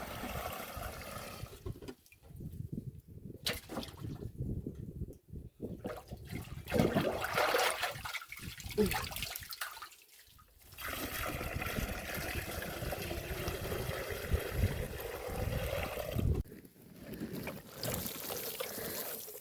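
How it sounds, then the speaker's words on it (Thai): Water from a naturally dug well being scooped and poured in repeated splashing bursts, each sloshing pour lasting a few seconds and separated by short pauses, close and fairly loud outdoors. "จะมีน้ำพุ่งตักแบบนี้เจ้า"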